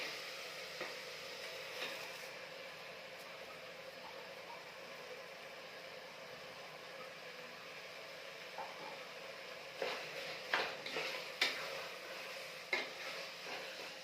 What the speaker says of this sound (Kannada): ಇವಾಗ ಇದಕ್ಕೆ ವಾಶ್ ಮಾಡ್ಕೊಂಡಿರೋಂಥ ರೈಸ್ನ ಹಾಕ್ತಾಯಿದ್ದೀನಿ.